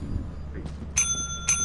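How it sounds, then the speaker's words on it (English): Two bright metallic bell rings in the video game Lethal Company, a sound like the bell from Inscryption, each a sharp ring with a short decay, about half a second apart, over a low rumbling background. "It sounds like the bell from Inscription."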